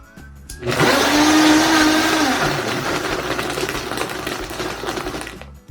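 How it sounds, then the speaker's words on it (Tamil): A blender grinds fruit for a healthy smoothie, starting abruptly with a loud, steady whirring roar. The motor pitch dips slightly as the blend settles, then it stops near the end. "இப்போ கிரைண்ட் பண்ணுறது தான்."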